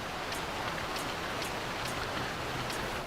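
Monsoon rain falls across the Giza Plains in Final Fantasy XII, a steady, soft hiss of downpour with faint recurring splashes and no voices.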